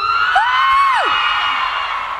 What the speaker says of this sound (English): The girls scream, can I hear the girls scream?